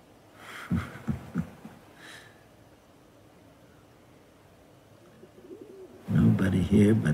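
Low, soft pigeon coos come in a few short bursts near the start, then a longer stretch of quiet. Deeper, throaty cooing or a voice imitating it returns loud and close at the end.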